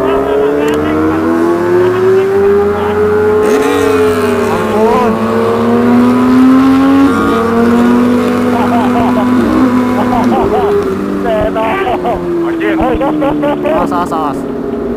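A powerful Kawasaki H2 motorcycle engine revs up and down, its pitch rising and falling, loud and close, while people talk over it during a night ride.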